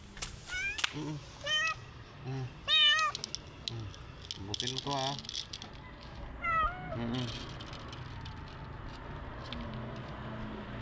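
A neglected stray cat with sore ears meows several times, some short and some drawn out, close by, while people talk around it.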